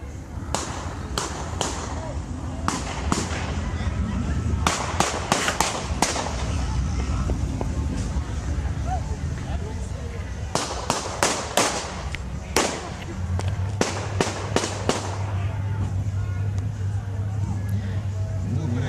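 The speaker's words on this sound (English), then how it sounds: "I counted about 20 gunshots that rang out" Sharp bursts of gunfire crack out in irregular clusters, many shots in a row, over a noisy outdoor background with people talking.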